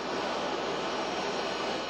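An airplane taxis in at a military homecoming, its engines a loud, steady broadband roar and whine that fills the whole stretch with no voices.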